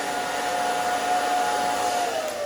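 A blow dryer runs steadily on short hair, a constant close airy roar with a faint whine that holds throughout.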